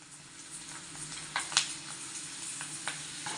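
Murukku frying in hot oil, a soft continuous sizzle and bubbling with a few sharper crackles and pops rising from the pan, moderately quiet and heard alone without talk.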